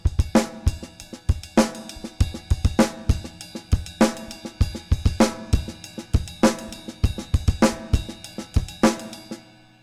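Slow one-measure drum groove: accented ride-cymbal bell strokes reinforced by kick drum, with snare backbeats, repeating steadily and clearly with no talking.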